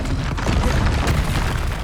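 A Bombarda blast spell in Hogwarts Legacy, a loud close booming explosion with a heavy low rumble that stays dense and sustained throughout, with no talking over it.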